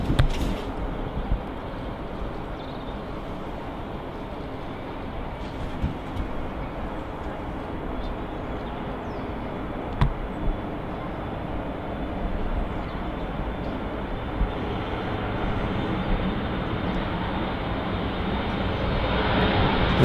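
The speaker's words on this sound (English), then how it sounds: "Right, here comes the KLM. Rolling on the runway," A KLM airliner rolls down the runway at Manchester Airport on its takeoff run, its engines giving a broad, sustained roar heard from a distance that swells gradually toward the end, with no talking.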